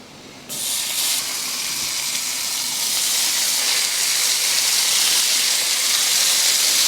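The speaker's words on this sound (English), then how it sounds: "While that bacon is over there sizzling away" Bacon sizzling on a hot flat-top griddle, a loud steady crackling hiss that starts abruptly and continues unbroken, with no talking.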